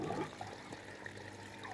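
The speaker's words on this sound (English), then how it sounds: "So the water exits from this 2-inch pipe down and out back to the pond." Water pours out of a 2-inch pipe back into a fish pond on an aquaponics farm, a faint steady gush and trickle with no talk.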